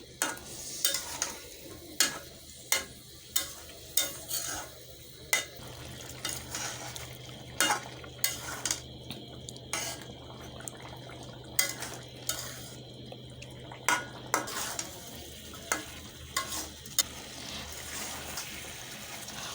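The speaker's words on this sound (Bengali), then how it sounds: "কচুরা যেহেতু আগে থেকে সিদ্ধ করা ছিল, আর এখনও ভালো মতো আমি কষিয়ে নিয়েছি" Boiled maan kochu taro is stir-fried in a pan, a spoon scraping and knocking against the metal in a steady rhythm of sharp taps over a soft, continuous sizzle, close and fairly quiet with no voices.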